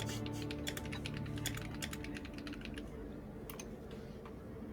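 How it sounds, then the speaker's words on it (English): Rapid, continuous typing on a well-built computer keyboard, a dense patter of crisp key clicks in irregular bursts, faint and close over a steady background hum, with no talking. "I love hearing the typing."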